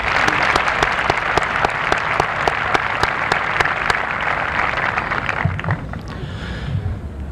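Sustained applause from a high school commencement audience, a thick wash of many hands with a few sharp individual claps. It is fairly loud and thins out near the end.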